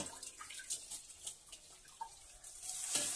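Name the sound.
water poured into sugar for syrup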